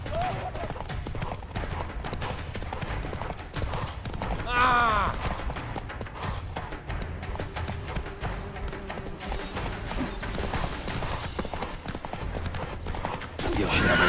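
Geralt's horse Roach gallops in The Witcher 3, with a continuous fast clip-clop of hooves. Game dialogue with raised voices plays over it, and there is a brief whinny-like cry partway through.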